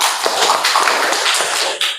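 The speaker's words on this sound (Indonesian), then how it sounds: "tepuk tangan buat Zidan" Applause for a student named Zidan in a classroom, a burst of many hands clapping quickly and closely together, bright and dense for two seconds.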